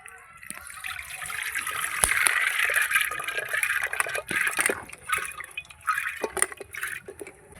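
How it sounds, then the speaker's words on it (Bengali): Washed lentils and water poured into a pressure cooker, a close splashing, trickling pour with some clatter, steady for several seconds. "জল সমেত ডালটা দিয়ে দেবো প্রেসার কুকারে।"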